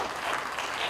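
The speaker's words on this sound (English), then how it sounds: "Another round of applause" Audience applause at a press conference of a Bollywood film festival, a brief, dense burst of clapping, loud and continuous for about a second.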